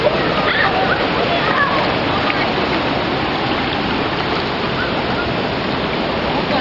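Ai Khiao Waterfall rushing close by, a loud, constant broadband roar of falling and splashing water that fills the whole stretch without pause.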